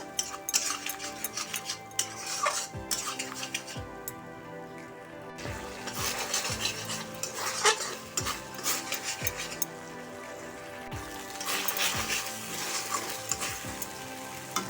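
Cashews, cumin and ginger paste for a no-onion, no-garlic mixed vegetable curry are stir-fried in a pan, with soft sizzling under repeated metal spoon scrapes and clinks against the pan, close and quiet, no voices.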